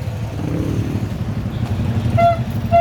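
Motorcycles idle and rumble in a crowded, jammed market street, with a steady low engine drone, some clatter and a short horn toot near the end.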